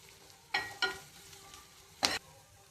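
Ginger garlic paste and green chillies frying in hot oil for chana masala, with a low steady sizzle and three sharp bursts of crackling spatter as the paste and stirring hit the pan.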